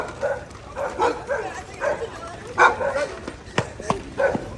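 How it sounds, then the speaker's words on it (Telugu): Street dogs in Istanbul, Turkey bark and yip repeatedly at passing tourists, the barks coming in irregular bursts at moderate distance over outdoor background noise. "ఈ ఏరియా కుక్కలు ఎంటబడినాయి జనాల్ని"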